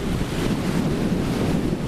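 Wind-driven waves roll in across Lake Alexandrina at Milang as the lake fills, a close, continuous rumble of surf with heavy wind buffeting the microphone.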